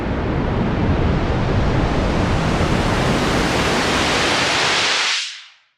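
A drum and bass riser synth effect built in Serum or Vital: a dense, hissing noise sweep swells steadily, holds loud, then cuts off with a quick fade near the end.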